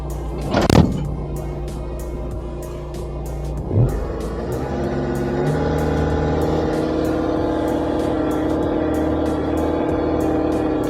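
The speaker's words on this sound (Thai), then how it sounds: "นี่ก็จะเป็นระบบเร่งเครื่องเลย" Diesel engine of a Caterpillar CAT304CR mini excavator, heard close up: two brief loud revs early on, then the engine settles into a steady, raised idle hum with a clear tonal drone.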